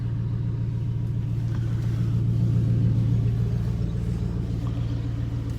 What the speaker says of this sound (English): Shut this truck off so you might be able to hear me.